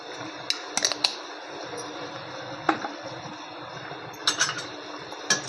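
Chicken kharda masala being stirred in a pan, with scattered sharp taps and scrapes of a spoon against the pan over a steady sizzling hiss.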